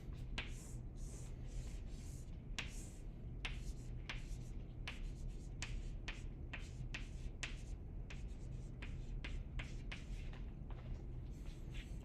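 Pen or pencil scratching quickly on paper while a ratio is written out by hand for a stoichiometry chemistry review, a steady run of short, crisp strokes close to the microphone with no talking.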